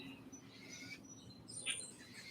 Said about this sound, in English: I don't know if you can hear the crow taunting the mockingbird and the mockingbird trying to taunt the crow.